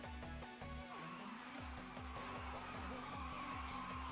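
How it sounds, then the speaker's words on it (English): Car engine and tire skids from the Initial D Arcade Stage Ver 3 racing game, with a loud, revving engine drone, rhythmic pulsing tire squeal and sliding, continuous throughout. "the sound of the engine and the tires, sliding on the road, slapping it"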